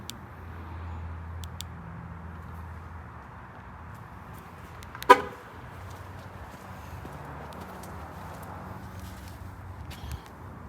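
A 2020 Jeep Compass Trailhawk gives one short, sharp horn chirp as it unlocks by key fob, heard once at mid-distance over steady outdoor background hum, with no talking around it.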